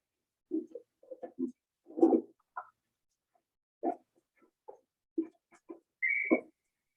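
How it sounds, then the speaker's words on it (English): A short, high whistle blast near the end, following a string of squawky, clucking vocal noises with brief pauses between them. "put that whistle down and get set"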